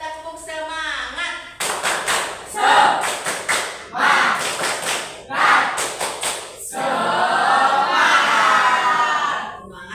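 A classroom group of students claps in quick rhythmic patterns of an Indonesian 'tepuk semangat' chant, in several bursts, ending in a longer burst of clapping and cheering, with voices calling out in Indonesian between claps.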